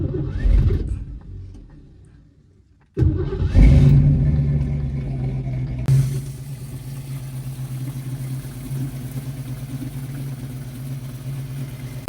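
The engine of a 1969 Ford Mustang with a cooling problem runs roughly, a loud rumble that cuts out briefly, then surges back and settles into a steady, slightly uneven idle.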